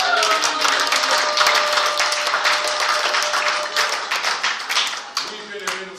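A congregation at a church service in Stuttgart bursts into sustained applause and acclamation, dense clapping with voices mixed in that thins toward the end.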